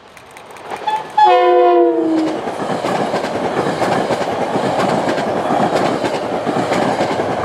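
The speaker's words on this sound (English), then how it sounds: "an inbound commuter train makes an appearance" A diesel commuter train on the Hudson Line sounds a brief horn blast, then rolls past with a steady loud rumble and rhythmic wheel clatter.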